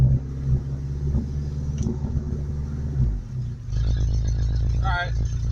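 A truck engine revving with its whole exhaust system fallen off, a loud, raw rumble that shifts and surges midway, with people talking over it.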